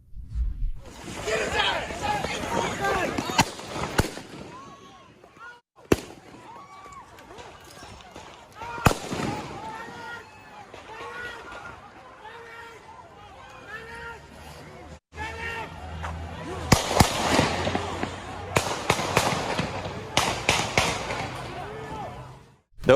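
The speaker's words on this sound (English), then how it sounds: "Those are real gunshots." Real gunfire on a street in Kenosha, Wisconsin: scattered sharp cracks and pops, some loud and some distant, spread through the scene amid crowd noise and voices.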